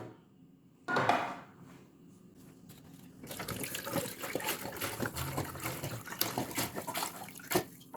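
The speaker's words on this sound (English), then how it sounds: "we're going to fill this right to the top, 12 cups, with white vinegar" White vinegar pours steadily into a Keurig K-Duo Essentials coffee maker reservoir, starting with a brief splash and continuing as a sustained, gurgling fill with occasional clinks.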